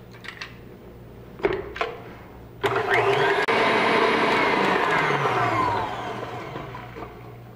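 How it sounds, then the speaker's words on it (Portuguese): Electric mixer beating brown sugar with eggs for muffin batter, a few short knocks first, then the motor whirs up loudly, holds steady for a few seconds and winds down. "vou dar uma batidinha até que fique um pouquinho claro essa mistura com os ovos"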